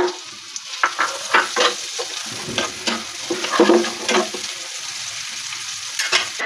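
Onion hitting hot oil in a pan gives a close, crackling sizzle, with repeated bursts from stirring rising above the steady frying.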